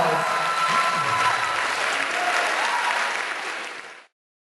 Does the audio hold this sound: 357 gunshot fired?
no